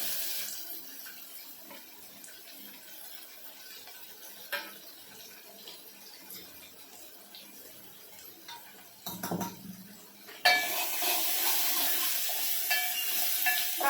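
Onion dropped into well-heated oil for a green chilli and spinach amti, with garlic, coriander and mustard seeds, hisses with a steady quiet sizzle that jumps to a louder, brighter frying crackle near the end.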